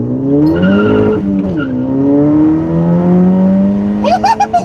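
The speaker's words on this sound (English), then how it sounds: "Almost at a good spot to test out this acceleration." A car on new tires launches hard from about 15 mph with wheelspin, giving a close, loud rising engine drone with harmonic sweeps, a brief dip, then a climbing pitch and a short squealing burst at the end.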